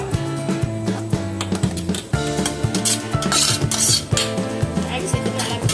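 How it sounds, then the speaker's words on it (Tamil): Maggi noodles being stirred into white sauce in a pan, with repeated scraping and clinking of a utensil against the metal, set against steady background music. "மேகி சேர்த்து நல்லா மிக்ஸ் பண்ணிக்கலாம்."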